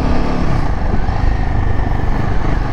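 Several Royal Enfield Himalayan 450 motorcycles coming back from test rides, their engines producing a steady, loud, dense rumble that stays continuous throughout with no pauses.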